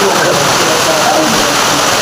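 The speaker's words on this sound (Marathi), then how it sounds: "पाऊस चालू आहे" Rain falls steadily near the Godavari river as a dense, loud, continuous wash of noise that fills the whole clip.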